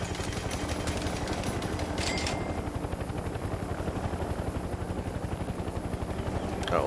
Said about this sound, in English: Such a cool looking helicopter.